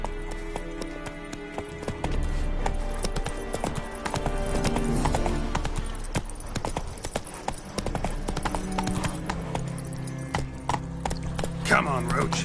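Hooves of the horse Roach in the video game The Witcher 3: Wild Hunt, a steady clip-clop over game ambience and music, with background voices present throughout.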